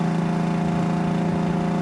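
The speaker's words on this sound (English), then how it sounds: "And then you have headers, dual exhaust, nice aftermarket mufflers, tailpipes. Sounds really good going down the road." A 1971 Chevrolet Chevelle SS with headers, dual exhaust and aftermarket mufflers runs steadily with a close, even, droning rumble and a constant low tone throughout, with no talking.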